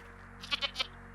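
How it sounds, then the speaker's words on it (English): Goats in the video game I Am Jesus Christ give three short, close bleats in quick succession over a steady low game-ambience hum. "Hey, goats!"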